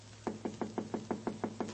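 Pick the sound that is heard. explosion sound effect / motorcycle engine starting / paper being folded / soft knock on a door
soft knock on a door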